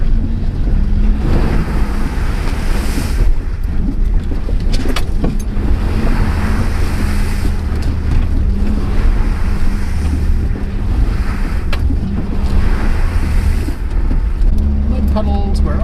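A Toyota pickup splashes through muddy puddles with the windshield wipers going, a steady engine rumble and wind buffeting under bursts of water hitting the body, with people talking inside the cab.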